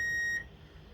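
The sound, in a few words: kitchen timer beeping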